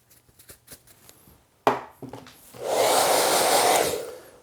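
A hair dryer blows cut hair off a child after a haircut, starting with a few soft clicks and taps, then a sudden loud steady whoosh of air held close for a couple of seconds.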